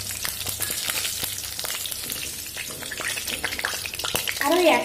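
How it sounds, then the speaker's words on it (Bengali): Potatoes fry in oil over a medium flame, giving a steady crackling sizzle with occasional stirring scrapes that grows louder and busier toward the end. "আলুটা খুব সুন্দর করে মিডিয়াম ফ্লেম করে ভেজে নেব"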